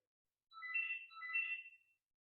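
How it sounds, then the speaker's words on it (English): A phone ringing in a quiet room during a yoga class: two short electronic trill bursts in quick succession, clear but fairly soft, with no talking over them. "sorry if you can hear ringing"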